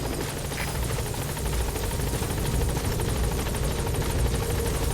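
A support helicopter's rotor beats steadily and loudly in Metal Gear Solid V, a constant whirring chop close by with no talking.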